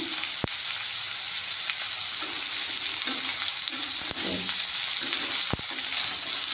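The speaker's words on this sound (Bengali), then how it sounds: "আমি ভাতটা ধরি দেখো অনেকটাই ভাজা ভাজা হয়েছে" Leftover rice fries in a pan with a constant close sizzle. A spatula now and then taps and scrapes the pan with sharp clicks.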